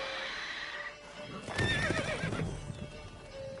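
Roach the horse in The Witcher 3 gives a clear, close neigh that rises and wavers over a soft steady game backdrop.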